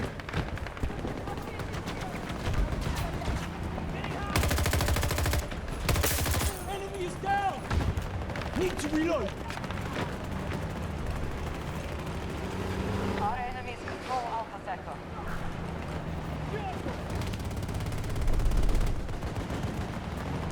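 Gunfire in the shooter game Battlefield 2042, with dense bursts of automatic fire and loud shots among vehicle engine noise and explosions, while someone talks over the action throughout.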